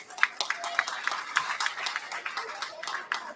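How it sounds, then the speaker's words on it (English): Applause for children at a county fair livestock market judging show in Summit County, Utah, with scattered hand claps from the crowd across a few seconds at moderate level. "give these kids a big round of applause"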